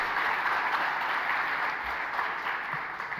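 Seminar audience applauding in a hall, a steady, fairly soft wash of many hands clapping that holds for a few seconds without talk.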